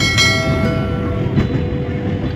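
From inside a packed passenger train crossing a bridge over the Rupnarayan river, a loud, continuous rolling rumble is heard close by, with faint metallic ringing tones.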